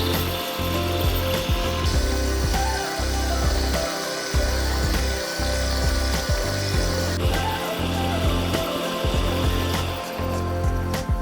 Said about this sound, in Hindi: जैसे ऑन करेंगे मशीन स्टार्ट हो जाएगा।